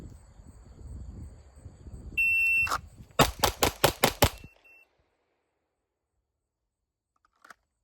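A rapid string of about six 9mm pistol shots fired with Badlands Jello Shots ammunition at an outdoor range during a Bill Drill, sharp and loud, preceded by a shot timer beep and followed by silence.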